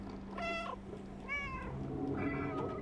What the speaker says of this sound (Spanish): Se distrajo con el puro maullido.